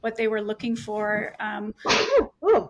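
A person sneezes once, sharp and close, right after a few quick spoken words.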